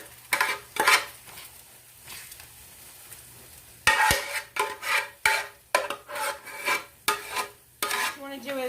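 Broccoli casserole being pressed and scraped into a hot metal pan, a series of close, rough rasping strokes that start sparse and then come in a steady run of bursts, with no talking.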